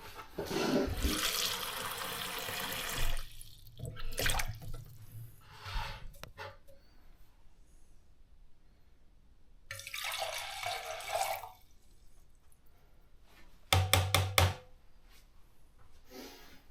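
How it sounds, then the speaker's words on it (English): Water pours from a tap in short bursts into a cup for boiling on a camping stove, with quiet pauses and soft handling sounds between the streams. "we'll get some water in this, just a cup enough to boil for a brew"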